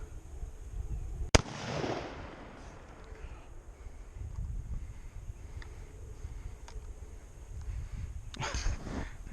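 A 6.5 Creedmoor rifle fires a 129 grain Hornady American Whitetail round at a water jug target: one sharp, loud, close shot, followed by steady outdoor wind noise.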